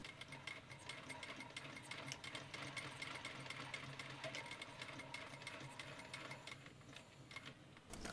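Sewing machine running steadily as it stitches a pant leg and facing together through all layers, with trim sandwiched between, for a Star Trek TNG costume; a continuous close mechanical whir with fast ticking throughout.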